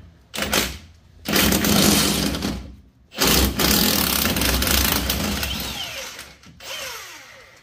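An impact wrench rattles on the lower strut bolts of a Silverado Z71 front suspension: two long, loud bursts of buzzing hammering with a short pause between them, then a tapering whir at the end.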